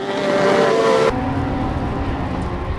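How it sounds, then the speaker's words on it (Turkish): A race car drifts on the track at a 2021 V2 Challenge race. Its engine gives a loud, sustained roar that drops abruptly in pitch partway through and then keeps droning. No one speaks. "Mehmet Eser her zamanki gibi otomobilini kaydıra kaydıra sürüşüne devam ediyor"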